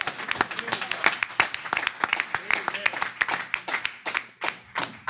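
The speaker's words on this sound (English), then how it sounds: "Let's give Reverend Donald Hare another round of applause." A church congregation at a Tuesday service gives a round of applause for a guest reverend, with uneven, lively clapping and thumps under talk and calls from the room.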